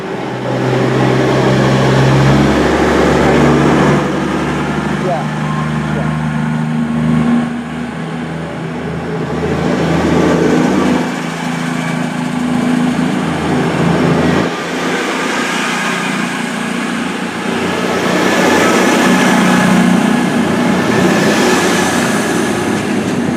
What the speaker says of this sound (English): departing out now is 221133 with the 1306 cross-country service to Edinburgh